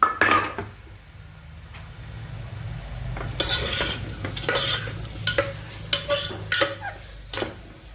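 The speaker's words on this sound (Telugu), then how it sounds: "మటన్కి ఇగో ఆయిల్ వేసుకున్నాము. ఇదిగోటండి ఉల్లిపాయలు ఇలా వేసుకోవాలి. పచ్చిమిరపకాయలు ఉల్లిపాయలు వేసాను." Onions and green chillies frying in oil in a pot for mutton curry, with a steady low sizzle under repeated metal spoon scrapes and clinks against the pan, close and moderately loud.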